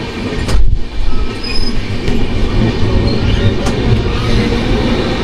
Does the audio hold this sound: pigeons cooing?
no